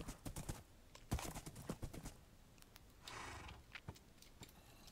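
Horse hooves clip-clopping in Minecraft while riding, a quick, irregular run of faint hoof clicks with a short whinny-like swell partway through, heard alone.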